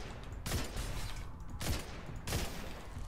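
Weapon fire in Destiny 2 aimed at a Phalanx enemy, with three loud, heavy shots spaced about a second apart, each a sharp boom with a short rumbling tail over faint game ambience.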